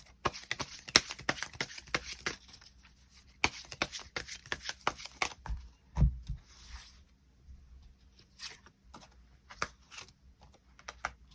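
Tarot cards shuffled and riffled by hand in a quiet room, a dense run of crisp papery flicks and taps for several seconds with a few louder slaps, no talking.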